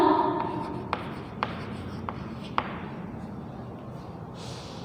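A crayon or marker colors a figure orange on paper, producing close scratchy strokes with several sharp taps spaced about half a second apart.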